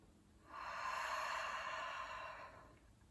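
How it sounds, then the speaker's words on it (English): One long, deep breath drawn in and let out during a children's winter yoga session, a steady airy rush that swells for about two seconds and then fades, close and alone. "Can you take one more big hot chocolate breath with me?"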